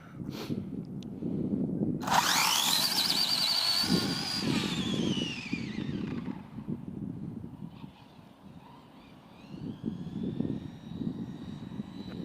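A belt-drive Arrma Limitless RC car, an 8S model running on 6S, makes a drag run: a sudden loud high-pitched motor whine launches, sweeps past and fades, then a quieter whine returns later over outdoor rumble.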